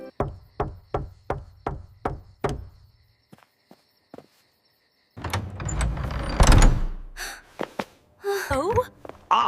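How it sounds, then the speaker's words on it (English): A strange knock at a palace door during a royal family's dinner in an animated Frog Prince fairy tale: a rapid series of about six sharp raps, then a few fainter taps, followed by busier movement and a voice. "strange knock at the door."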